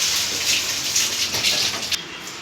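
Water is poured into a pan of vegetables and oil while cooking Tamil sambar, a close, steady gushing splash lasting a couple of seconds with no voices over it.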